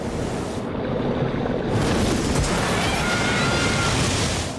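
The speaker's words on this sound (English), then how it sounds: "The Emerald Jane is being ground into a reef in the middle of the Pacific Ocean and is being battered by violent waves." Violent Pacific Ocean waves batter a sailboat wrecked and grinding on a reef, a loud continuous roar of surf and wind with rushing water throughout.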